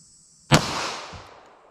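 A single 9mm 124-grain full metal jacket round fired into ballistic gel, one sharp loud crack followed by a short fading outdoor echo, with no talking.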